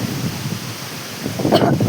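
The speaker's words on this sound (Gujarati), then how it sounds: "પવને હમણાંથી બહુ વર્યો" Strong wind buffets outdoors, a rough rumbling rush that swells louder near the end, with no voices.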